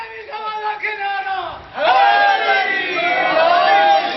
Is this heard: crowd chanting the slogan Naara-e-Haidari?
yes